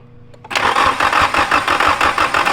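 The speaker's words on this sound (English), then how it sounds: "Now crank it" A Nissan SR20 engine in a 240SX cranks and catches after a quiet half second, then runs loud and close with a rough, pulsing rhythm on its first start.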